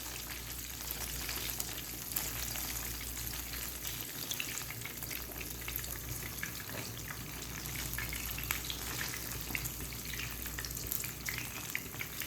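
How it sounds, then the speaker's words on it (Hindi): Bread slices for double ka meetha fry in a pan over medium heat, giving a faint, even, continuous sizzle with no change in rhythm and no talking. "इसी तरीके से मैं सारी डब रोटियों को फ्राई कर लूँगी।"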